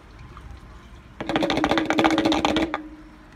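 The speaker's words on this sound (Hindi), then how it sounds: "चलो अब डालते हैं पेट्रोल बाइक में" Petrol pours from a container into a motorbike fuel tank in a steady, close liquid gush lasting about a second and a half, then tapering off, with no talk.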